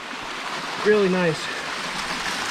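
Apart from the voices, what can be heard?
water flowing in a mountain stream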